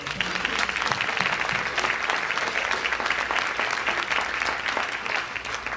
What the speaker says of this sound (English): So one more big round of applause for you.